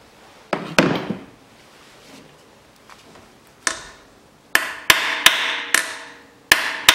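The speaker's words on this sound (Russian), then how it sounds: "Чтобы грани не посрывать, болт остучу маленько." Hammer tapping a bolt on the valve cover of a 2011 Daewoo Matiz 0.8 to loosen it without rounding its edges: a few sharp metallic knocks early, then a quick series of six close, crisp strikes near the end.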